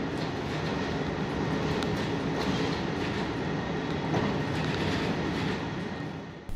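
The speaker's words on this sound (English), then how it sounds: "the two diesel engines under each car don't make for a particularly quiet run" A Hokkaido diesel railcar train, with two diesel engines under each car, runs uphill at speed with a loud, continuous engine and wheel rumble and faint clickety-clack from the rails.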